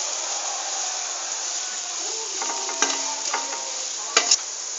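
Onions being stirred and fried in a pan for Punjabi kadhi pakoda, a steady hissing sizzle broken by a few sharp scrapes and clanks of a spoon against the pan, close and without talk.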